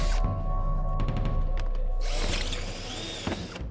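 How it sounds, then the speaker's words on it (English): Power drill boring holes into a spare metal tank in a scrapyard workshop: close, loud mechanical whirring and ratcheting, then a harsher grinding burst as the bit bites through, with no talking. "drilling holes in that spare tank, just in case the supermodels return"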